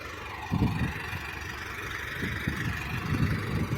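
A YuMZ tractor engine runs in a plowed field, a mid-pitched rumble heard from a short distance with irregular low thumps and swells.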